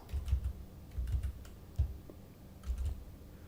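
Typing on a computer keyboard, irregular bursts of soft key clicks and thumps close by, with short pauses between clusters and no talk.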